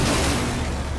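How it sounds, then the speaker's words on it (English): Hard breach gadgets go off in Rainbow Six Siege with a loud, dense blast that fills the whole second, a heavy booming roar that starts to fade toward the end. "who throws sequentially exploding hard breach gadgets"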